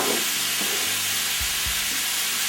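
Chicken stir fry sizzles steadily in a hot pan while it is turned and stirred, with a few soft scraping knocks from the utensil over a constant frying hiss.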